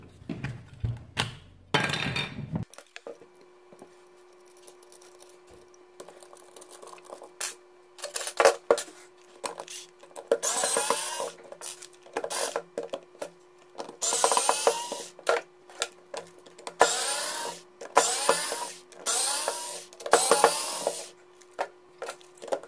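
Screws are taken out of the plastic housing of a Parkside jigsaw. Intermittent close scraping and rasping bursts of a screwdriver turning come with occasional small knocks and clinks of parts being handled.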